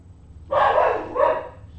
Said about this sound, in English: Quit all that barking.